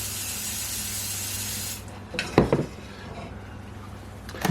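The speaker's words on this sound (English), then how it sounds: "Then I spray the top." Cooking oil sprays onto the top of a vegan Reuben sandwich in a pan as a steady close hiss of nearly two seconds, followed by a few sharp clinks and knocks of kitchenware.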